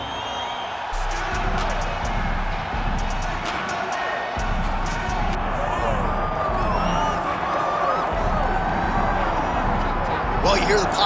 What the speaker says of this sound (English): you hear the pop from the crowd